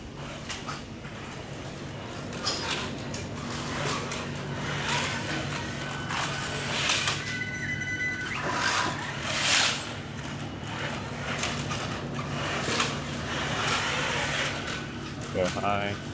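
A competition robot drives around a shop during a team demonstration, its motors and mechanisms whirring and clattering through a steady background hum while people talk nearby.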